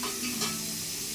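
Chopped onions fry in hot oil in a pan, giving a steady close sizzle with a faint stir partway through, no voices.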